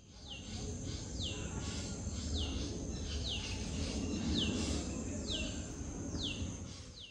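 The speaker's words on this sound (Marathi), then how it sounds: "आजूबाजूला आहे ना पक्ष्यांचा आवाज होतोय" Birds call repeatedly around a rural farm stay near Mumbai, a series of sharp descending chirps recurring about every second over steady outdoor ambience, moderately distant, with no talking.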